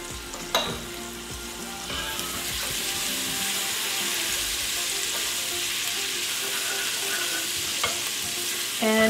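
Garlic and chili paste fry in hot oil with a steady, loud sizzle, broken by a few stirring scrapes and clinks, for a Cambodian sweet and sour catfish soup.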